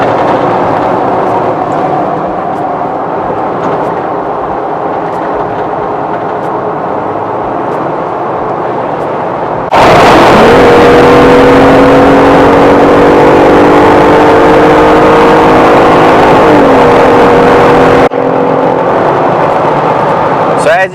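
A 2020 Jeep Gladiator with an 8-speed automatic, 37-inch tires and 4.10 gears accelerates onto a highway, the engine note climbing in steady pitch sweeps through the gears as the loud cabin drone swells midway.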